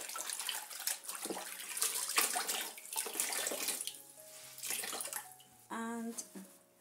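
Tap water runs and splashes into a sink or basin while silk scarves are rinsed, a fairly close, continuous gush with some changes in flow and a brief stop near the end.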